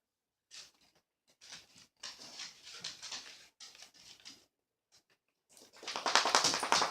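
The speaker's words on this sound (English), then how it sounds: "My dog's chewing on my foot." A pet dog named Bo chews and gnaws on its owner's foot, with close wet mouthing and scuffing in short irregular bursts that build into louder, denser rustling toward the end, with no talk.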